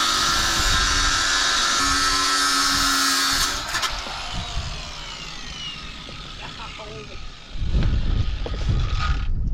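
A power tool grinds loudly through old melted metal near an axle, a harsh high whine that cuts off midway, then quieter clatter and a renewed burst of rough mechanical noise, close up.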